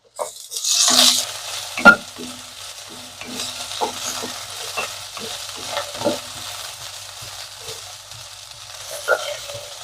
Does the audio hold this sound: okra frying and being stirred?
yes